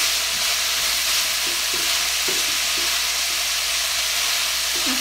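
Sausage sizzles steadily in a pan, a constant dense hiss with a few soft scraping stirs, no talking.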